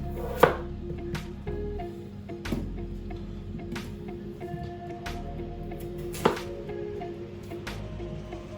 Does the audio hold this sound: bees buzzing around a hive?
no